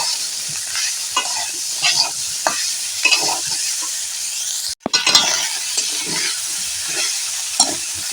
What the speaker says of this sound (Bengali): হলুদটা দিলে কালারটাও হবে এইভাবে আমি এখন নাড়তে থাকবো কিছুক্ষণ